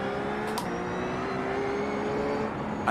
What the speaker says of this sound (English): I love this car because you can wind it up to like 9K.